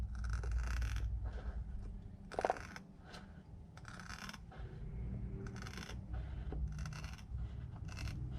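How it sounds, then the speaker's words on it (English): Scissors cut through a flexible, slightly hard plastic speedometer lens from a V71 motorcycle, giving several sharp, close snips and scraping crunches spread unevenly over a low background hum. "Alright, I think the scissors will work."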